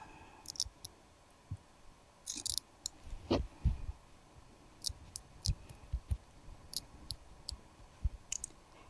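Irregular clicking of scissors cutting while crafting a composition book cover, sharp snips spaced unevenly with a few louder clacks, close up and with no voices.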